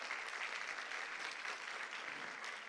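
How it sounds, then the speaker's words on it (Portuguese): Audience applause welcoming a guest speaker at a student science fair lecture, a continuous, even clatter of many hands clapping in a hall, fairly distant and moderately quiet, with no one talking. "Uma salva de palmas para o Israel."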